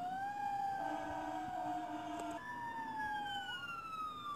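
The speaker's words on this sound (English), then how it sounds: "Here comes another rescue vehicle. Definitely a fire engine." A fire engine passes at moderate distance with its siren sweeping up and down in long wails that shift pitch, over faint road rumble.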